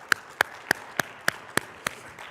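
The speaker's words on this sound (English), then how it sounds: "Please give her a big round of applause." Seven sharp, evenly spaced claps ring out close to the microphone in a quiet conference room as a keynote speaker is welcomed, each hand clap distinct with near silence between them.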